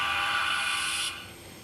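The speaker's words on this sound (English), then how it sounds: "We can test by pressing 2, function 2, and we get a whistle" A short, shrill steam whistle from a model Chinese SY class steam locomotive sounds loud and close for about a second, then cuts off abruptly.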